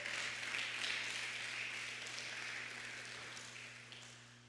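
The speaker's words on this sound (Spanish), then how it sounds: "Dele un aplauso fuerte al Señor, por favor." A church congregation at a Sunday communion service in Tzeltal applauds; the clapping is soft and distant, a steady wash that fades slightly toward the end, with a low electrical hum beneath.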